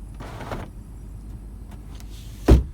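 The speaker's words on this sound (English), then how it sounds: "So, moonroof works" Power moonroof motor of a 2014 Nissan Armada Platinum SUV, heard from inside the cabin as a brief low whirring run followed seconds later by a sharp thump as it stops, no talk.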